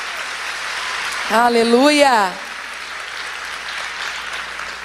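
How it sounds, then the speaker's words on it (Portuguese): Church congregation applauding during a sermon, a continuous wash of clapping across the hall while a voice sings out briefly over it. "Você pode aplaudir a Ele?"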